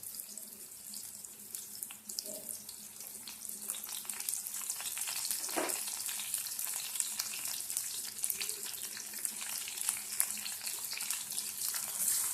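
Curry leaves sizzling in hot oil in a pan while cooking chicken curry, a steady bright hiss and crackle throughout with a brief sharper pop near the middle, close and continuous.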